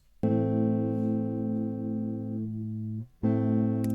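A single clean guitar chord rings out and sustains for about three seconds, then is struck again, loud and close with no added effects.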